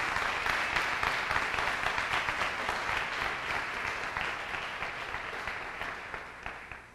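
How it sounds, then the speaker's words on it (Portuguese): Church congregation giving a round of applause during a worship service, steady dense clapping throughout, loud and close, tapering slightly at the end with no talk over it. "essa família forte quer dar a você, nesse momento, uma salva de palmas"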